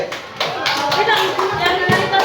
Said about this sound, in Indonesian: Tepuk tangan dulu untuk kelompok PMP.